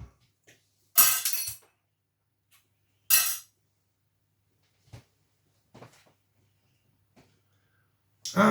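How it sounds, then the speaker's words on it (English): A drinking glass smashes in a kitchen sink during washing up: a loud, close shattering crash, a second sharp burst of breaking glass, then scattered faint clinks of shards in quiet. "So I've just managed to smash a glass."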